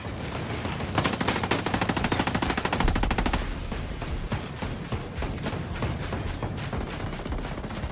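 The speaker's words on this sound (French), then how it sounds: "c'est des explosions" Combat in the video game Ghost Recon Operation Amber Sky erupts in a dense, rapid string of sharp blasts, then thins into looser, evenly spaced bangs that continue to the end, loud and with no talking.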